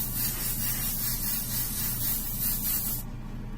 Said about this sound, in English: this is just the Badger Stynylrez Res. Spraying at 20 psi.